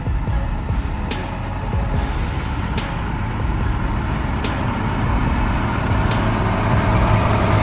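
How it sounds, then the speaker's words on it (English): Heavy off-road truck engine roaring steadily as it strains up a slippery, muddy slope in a convoy, with a continuous loud low rumble and a few brief hissing bursts, no talk. "The wheels spun, grinding into the wet road"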